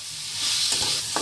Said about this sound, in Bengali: রসুন আদার থেঁতো করে নিয়ে দিয়ে দেওয়া হচ্ছে। এরপর আবার খুন্তির সাহায্যে ভেজে নেওয়া হচ্ছে।